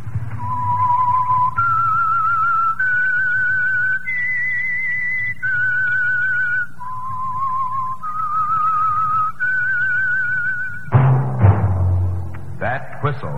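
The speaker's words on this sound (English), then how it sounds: "That whistle." A lone whistler carries a slow, steady tune for the 1946 radio mystery drama The Whistler. Each note is held clearly and the melody climbs and falls in even steps. Near the end, a sudden louder burst of music cuts in.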